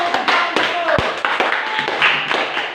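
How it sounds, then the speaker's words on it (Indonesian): A class of students clapping hands together during a lesson, dense overlapping claps close by with voices mixed in throughout. "tepuk tangan dulu"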